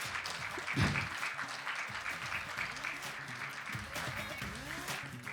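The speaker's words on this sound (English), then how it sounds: "big round of applause for Dr." A gala award audience at an Indian American medical association event gives a steady round of applause, dense and continuous, with voices and chatter mixed in underneath.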